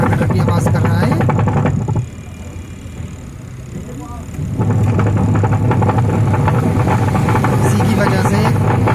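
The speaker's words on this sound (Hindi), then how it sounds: "जैसे हम इसे स्टार्ट करते हैं तो आपको आवाज़ आ रही होगी, इतनी खटर की आवाज़ कर रहा है।" A washing machine with a faulty gearbox runs with a loud, continuous clattering rattle and a grinding mechanical drone, dipping briefly partway through, while someone talks over it.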